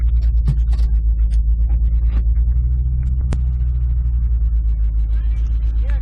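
Low steady engine rumble inside a moving 2006 Ford Mustang, a continuous drone filling the cabin from start to end with a brief sharp tone midway and faint voices in the background.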